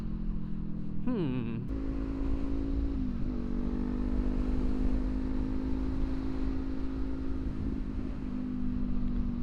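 Steady engine idle from a 2024 Kawasaki Ninja 500 motorcycle fitted with a new aftermarket exhaust, a loud continuous rumble close by with a brief blip of revving early on and a small rise in pitch partway through.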